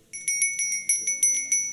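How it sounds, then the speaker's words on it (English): A small bell rings in quick repeated strikes, about nine bright metallic dings in under two seconds, close and clear with nothing else around it. "Listening for the sound of a bell."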